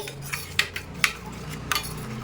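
A spoon stirring mustard oil into a mixture in a metal bowl, with a few sharp clinks and scrapes at irregular intervals over a quiet kitchen background.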